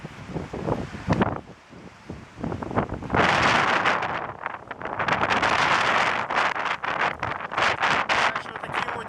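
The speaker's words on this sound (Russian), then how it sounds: "Такой ветер я еще не охотился." Wind blowing at 25 metres per second on a sandy sea shore roars as loud, gusty buffeting against the microphone, with surf washing underneath and no clear voices.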